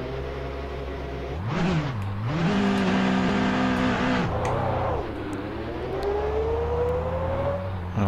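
A Porsche race car engine in the rFactor 2 racing game revs up and down through gear changes, its tone dipping and climbing, then holding a rising whine, loud and steady throughout.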